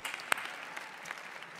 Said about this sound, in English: Let me applaud you.